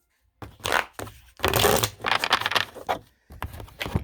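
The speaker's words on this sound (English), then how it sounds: "I'm going to do some shuffling to the other two cards." Oracle cards shuffled by hand in several brisk bursts of riffling and sliding, close and fairly loud, separated by short pauses.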